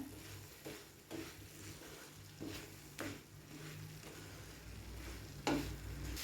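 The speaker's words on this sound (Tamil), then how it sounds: "இந்த மசாலாவோட பச்சை வாசனை போகிற அளவுக்கு நல்லா வதக்கி எடுத்துக்குவோம்" Turkey berries sauté in oil with coriander-powder masala, giving a soft sizzle with rhythmic stirring scrapes and clatters against the pan. Each stroke comes at an uneven interval, close but fairly quiet, with a low hum underneath.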